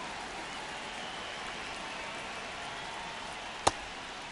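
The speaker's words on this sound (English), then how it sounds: "This rain is not letting up." Steady rain falls on a Kansas City ballpark in a baseball video game, an even hiss throughout with one sharp tick near the end.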